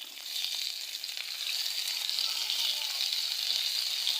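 Chilies and a potato sizzle steadily in hot oil, a dense, even frying hiss that holds at a constant close level with no voices over it.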